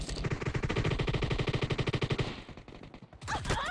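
Rapid automatic gunfire in a team-based shooter video game rattles in a fast, loud, continuous burst for about two seconds, then cuts off into a brief lull before more sharp shots.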